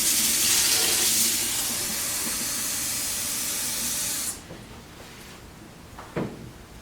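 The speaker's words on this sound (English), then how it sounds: "so now we want to add some warm water" Warm water pours steadily into a sourdough mixture, a loud continuous rushing splash that lasts about four seconds and then stops abruptly, followed by quiet room tone with a couple of faint knocks.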